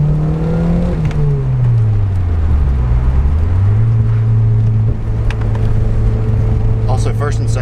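A 1986 Porsche 944 Turbo engine revs and pulls hard under acceleration from inside the car, a loud steady drone that rises, dips and climbs again without pause.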